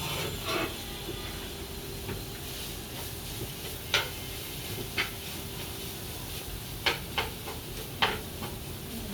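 Chicken frying lightly in a pan over low heat, a soft continuous sizzle with occasional sharp clicks and taps of stirring or the pan, fairly quiet and without talk.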